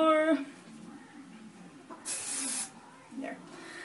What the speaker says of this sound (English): I'm just going to spray some more